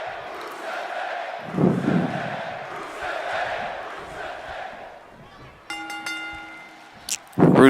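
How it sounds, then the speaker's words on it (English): Arena crowd cheering in the wrestling video game WWE 2K, a broad roar of many voices that swells and rises, followed by a bright ringing chime and a sudden loud burst near the end. "The crowd cheering for Rusev."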